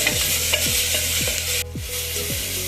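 Shallots and tomato fry for sambar in a loud, continuous sizzle, with regular scraping strokes of a spoon stirring the pan, and no voice.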